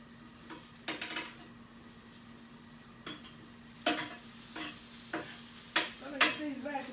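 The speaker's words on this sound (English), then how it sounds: "Let me get these vegetables sauteed real quick" Vegetables sautéed in a pan make a soft background sizzle over a low hum. Distinct utensil scrapes and stirring clatters arrive in bursts, about half a dozen over several seconds.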